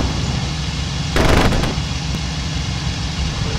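A fighter's cannon fires one short, heavy rattling burst over the constant drone of the aircraft engine in the WWII flight sim IL-2 Cliffs of Dover, with a faint extra shot soon after.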